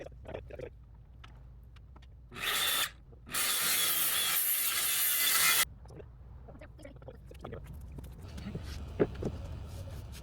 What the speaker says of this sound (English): We are set up for the first cut. Got the saw with a good fine tooth blade.